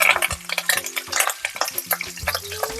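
Cinnamon, cloves, cardamom, green chilies and curry leaves sputter and crackle in hot oil, with close, busy sizzling and pops and light stirring scrapes throughout.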